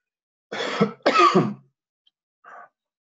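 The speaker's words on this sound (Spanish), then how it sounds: "No se preocupen que tengo barbijo, así que puedo toser tranquilo." Two rough coughs in quick succession through a face mask, close and alone in a quiet room, followed by a brief softer throaty sound.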